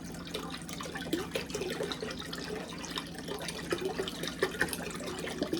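Vegetable broth poured into a cooking pot for wonton soup: a steady, close liquid stream with gurgling and splashing, quiet throughout and without talk.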